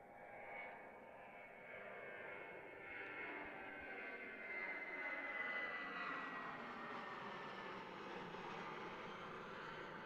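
Airbus A320 airliner at Christchurch Airport, a faint, distant jet engine roar that swells gradually and holds with a sweeping pitch shift as the aircraft passes, no voices.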